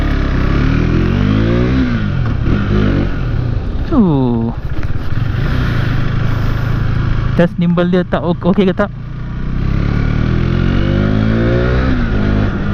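KTM RC390 single-cylinder motorcycle on a test ride, revving and accelerating loudly up through the gears with a falling pitch at each shift and a sharp burst of high revs midway; a rider talks over the engine.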